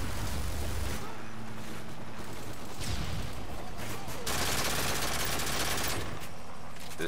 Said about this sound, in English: This gun has no range when it has rapid fire.